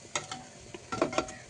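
Mini jangiri batter frying in hot oil, giving soft, scattered sizzles and crackles that come in short bursts, close by, with no talking.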